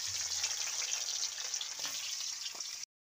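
Small fish fry lightly in hot oil in a kadai, a faint, steady sizzle with a few quiet stirring taps before it cuts off abruptly.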